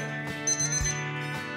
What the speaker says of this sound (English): Light off as soon as timer ends.